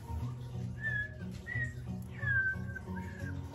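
Someone tries to whistle and produces several thin, faltering notes, some sliding in pitch, over a low airy background.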